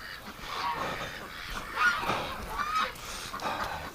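Domestic ducks in a winter farmyard give a run of nasal honking quacks at close range, irregular and overlapping, over soft background noise.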